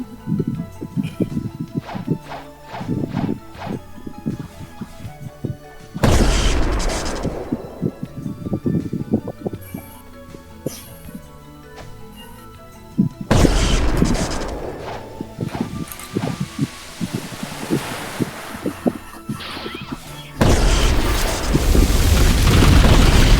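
Loud bazooka blasts in a video game, several heavy booming explosions spaced through the stretch with smaller thuds and rumbles in between, no talking.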